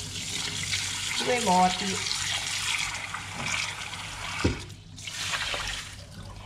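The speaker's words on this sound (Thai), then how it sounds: "เราไปล้างข้าวเหนียวก่อนเลยค่ะทุกคนค่ะ" Sticky rice being rinsed in water, with broadband splashing and trickling from a tap or sink running steadily under a woman's speech, plus a brief clunk near the middle.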